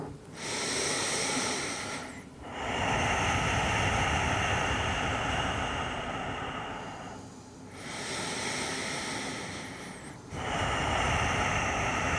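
Slow, deep yoga breaths in child's pose, each long airy inhale and exhale filling several seconds, close and steady with brief pauses between them and no talking.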